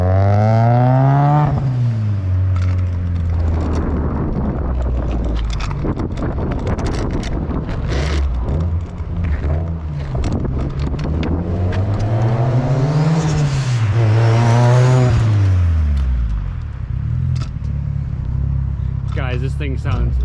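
A fully built Mazdaspeed6 with a huge turbo revs and drones loudly through its exhaust, engine pitch sweeping up and down repeatedly over a steady rumble, with wind buffeting the microphone and a voice talking over it.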